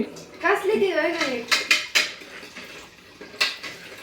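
Steel pots and dishes being washed by hand, with repeated clinks and clatters of metal utensils close by, alongside someone talking.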